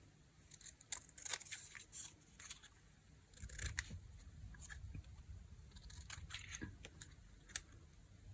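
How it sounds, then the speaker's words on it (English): Scissors snip through recycled packaging to cut out junk-journal charms, a series of faint, close crisp cuts and rustles coming in irregular bursts in a quiet room. "Let's get the scissors."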